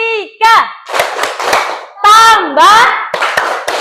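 Children in a classroom chant a maths clapping rhythm together in a sing-song pattern, punctuated by sharp group hand claps landing on the beat.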